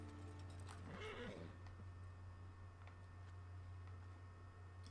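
A horse in Red Dead Online gives one short, faint whinny early on over a low steady hum, followed by a few soft hoof clops.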